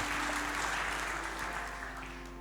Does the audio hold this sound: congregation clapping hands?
yes